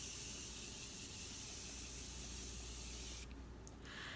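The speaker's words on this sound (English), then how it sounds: "I'm going to go ahead and just finish off with my Morphe Continuous Setting Spray." A Morphe Continuous Setting Spray mists onto a face as one steady, close hiss lasting about three seconds, then cuts off abruptly into quiet with a faint trailing sound.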